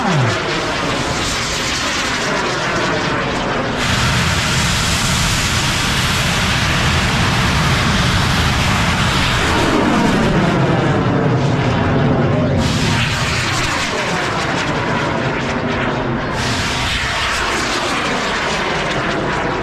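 Large bamboo rockets at the bung fai festival in Phanom Phrai, Roi Et, Thailand, roar continuously like a heavy engine for the whole stretch, loud and close, with crowd noise and an announcer beneath.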